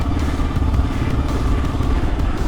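A motorcycle ridden over a rough road, its engine droning steadily up close, with clattering and bumping from the uneven surface throughout.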